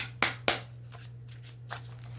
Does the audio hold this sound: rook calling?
no